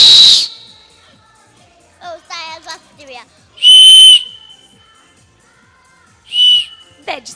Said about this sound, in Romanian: Trei fluiere, da? Unul este roșu, unul este galben și unul este albastru.